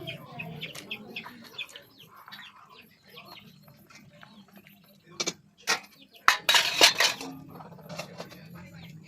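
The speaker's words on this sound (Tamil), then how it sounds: "அதுக்கப்புறம் மீன் அள்ளி போடுறேன்" Fish pieces are ladled into a pot of thickened fish curry with sharp metal clinks and scrapes bunched near the end, over a quieter stretch of talking and chickens clucking in the background.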